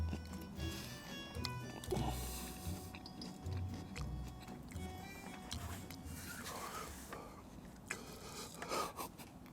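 Hot, crunchy lotus root being chewed close to the mouth, giving repeated crisp crunches and wet scraping bites over several seconds, with a few brief vocal sounds in between.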